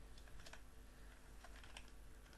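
Rapid typing on a computer keyboard while entering an Urdu font name, a quiet, uneven patter of light key clicks with no talk.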